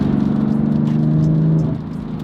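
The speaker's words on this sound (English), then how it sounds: "It's like a very sharp kind of couple of burbles there right when you let off the gas." A BMW F80 M3 fitted with an AWE S-FLO intake gives a loud, close, steady engine drone that drops off sharply near the end as the throttle is released, leaving a lower rumble with a couple of faint pops on lift-off.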